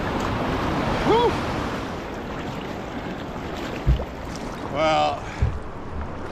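Class 3 river rapids in flood, with the water up into the trees at a blind corner, roar as a dense, steady rushing wash; someone speaks briefly and a couple of dull knocks sound against the canoe.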